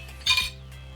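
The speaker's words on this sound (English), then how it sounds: "We're going to take that now and we are going to rock it into our dry ingredients" A single bright clink of a utensil against a bowl as apple fritter batter is folded into dry ingredients, one short close sound followed by quiet.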